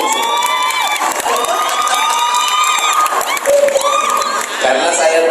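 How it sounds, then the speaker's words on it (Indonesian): A crowd cheers and shouts with scattered clapping at a West Java choir finale event attended by officials, loud and close throughout, with high children's voices and whoops layered over a steady roar. "Tepuk tangan yang pakai baju baru."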